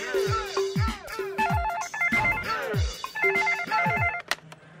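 A telephone rings repeatedly in a steady pattern of electronic bursts, with people talking nearby over the ringing.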